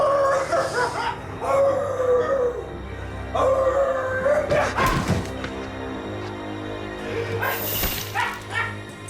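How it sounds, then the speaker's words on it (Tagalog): A dog barks and lets out drawn-out howls in a dramatic film scene, moderately close, with thuds and other scene noises mixed in. "Tahol, Goyo! Tahol!"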